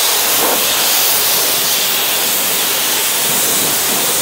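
At a self-service car wash station, a pressure washer rinses a protected car with a loud, steady, close hiss of spray that runs unbroken the whole time, with no talking.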